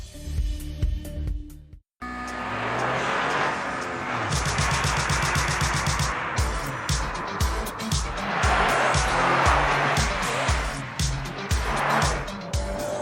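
A Toyota GR Yaris with a three-cylinder 1600 engine accelerates hard, its rising engine note climbing through gears with shift breaks, loud and close from inside the car after a brief quiet start.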